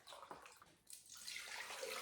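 White vinegar pours into a 2-cup measuring cup, a soft continuous splashing stream that pauses briefly then resumes steadily, faint and close, with no talk.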